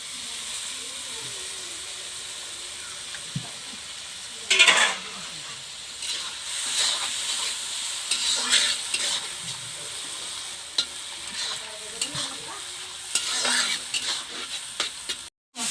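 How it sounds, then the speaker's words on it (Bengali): Water poured into frying masala with eggplant and potato for a village-style rohu fish curry, a steady hiss and sizzle with a burst of steam, then stirring and scraping of the pan, close by, with occasional speech. "তো আমি এখন অল্প জল দেব।"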